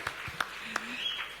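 Sparse, hesitant clapping from an audience at a series trailer launch event: a handful of separate claps in quick succession instead of sustained applause.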